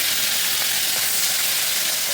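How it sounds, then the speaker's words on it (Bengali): Pieces of katla fish fry in hot white oil, giving a steady, broad sizzling hiss that runs unbroken and fairly loud, with no voices over it. "মাছ ভাজা হচ্ছে, বাবা তুই সাবধান সাবধান।"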